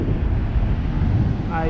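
Strong wind buffets the microphone on a beach, a loud, continuous low rumble with a faint sound of surf beneath it.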